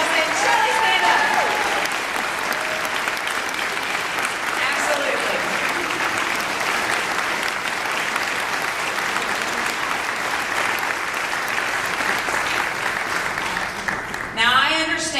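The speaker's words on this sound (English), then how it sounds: "Give her a round of applause" A crowd gives sustained applause for a congresswoman at a public service event, loud and continuous for the whole stretch, with a voice speaking briefly near the end.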